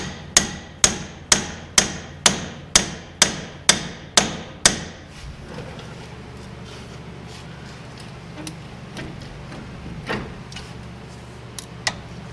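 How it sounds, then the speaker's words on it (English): A hammer strikes metal in a fast, even series of about ten loud blows, knocking out a ball joint on a GM Squarebody truck, then a few scattered, quieter knocks follow amid faint shop noise. "I'm gonna get a bigger hammer"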